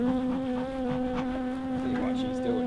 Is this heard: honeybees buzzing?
yes